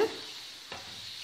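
Potato chips frying in hot oil over a medium flame give a steady, quiet sizzle throughout, with a brief stir or scrape near the middle.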